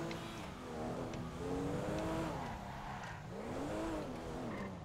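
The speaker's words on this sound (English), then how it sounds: "I love this car. It needs better handle and better tires" A car tears around in GTA V, its engine droning and shifting pitch continuously, with tire squeal mixed into the steady, close road noise.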